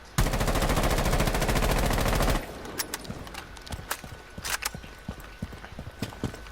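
Automatic gunfire from a video game played on a controller while working on recoil control: one loud, rapid, continuous burst lasts about two seconds, then cuts off into scattered quieter clicks and taps.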